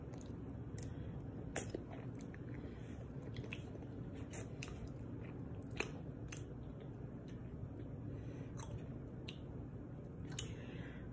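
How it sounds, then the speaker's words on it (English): Chewing on a spicy chicken thigh coated in hot sauce during a taste test, with quiet, close, wet squishing bites and repeated soft clicks over a faint steady background hiss, with no talking. "Now I'm gonna do a little taste test to see if it's spicy."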